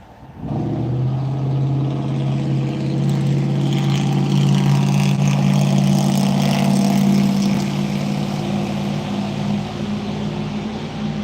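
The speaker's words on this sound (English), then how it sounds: "You can hear the highway right behind me." Highway traffic drones steadily behind a flooded creek after a storm, a continuous low rumble of passing vehicles that holds loud and unbroken throughout.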